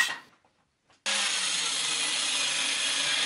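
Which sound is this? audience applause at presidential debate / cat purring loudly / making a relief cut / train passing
making a relief cut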